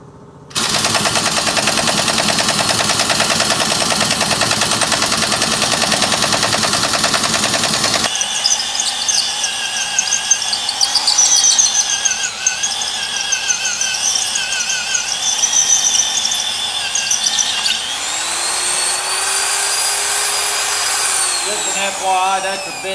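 A 4.5-inch side grinder sharpening a bit: loud, continuous harsh grinding for about eight seconds, then a high whining, shifting tone as the grinder runs on and winds down.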